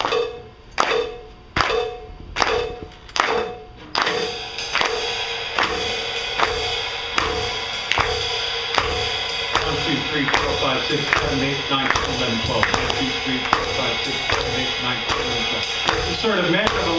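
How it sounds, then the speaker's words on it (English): A live clinic audience claps along in an 11/8 groove with the chording note, starting with a few loud, spaced claps and then settling into steady, dense rhythmic clapping with voices mixed in. "Please clap along with the chording note."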